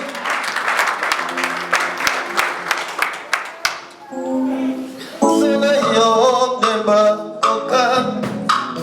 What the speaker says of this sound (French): Acclame bien les mains.